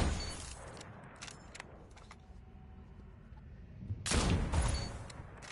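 Gunfire rattles in a video game, with a burst of rapid shots at the start, a quieter stretch, then another loud volley near the end.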